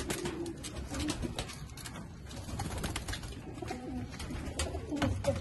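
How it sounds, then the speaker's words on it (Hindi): Caged pigeons coo steadily at close range, a soft continuous murmur of overlapping low calls with occasional brief wing flutters, and no talking. "कबूतर ना बाहर चले"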